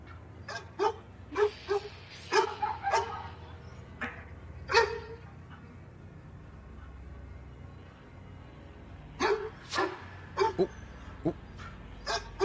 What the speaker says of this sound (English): the dog refuses to back down, growling and fixated on one specific direction